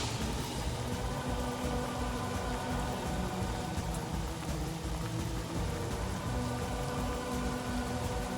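Rain falling from a Soaking Spray spell in the fantasy video game Divinity: Original Sin, a dense steady hiss of drops on surfaces, even and continuous at low level, with no voices.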